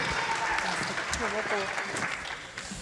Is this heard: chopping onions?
no